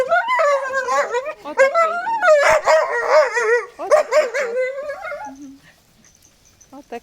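A stray dog shut in an enclosure gives a run of high, whining yelps and barks close by, continuous for several seconds before trailing off into quiet.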